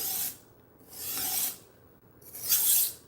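A knife blade rasps in long, steady strokes across a 3000 grit sharpening stone, three close, even passes with brief gaps between them and no talking.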